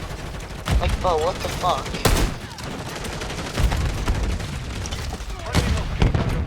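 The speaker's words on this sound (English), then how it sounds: "this gun has zero fucking recoil, I swear" Heavy shotgun blasts in a video game come as several separate booming shots spaced a second or two apart, loud and close, with a voice exclaiming between them.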